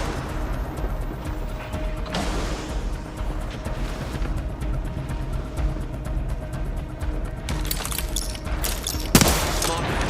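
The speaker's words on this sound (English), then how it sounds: "Smart bullets hit a foe. Firearms repeated." Rapid gunfire bursts in the video game Apex Legends rattle over a busy background of game effects, with a louder volley early on and more sharp bursts near the end.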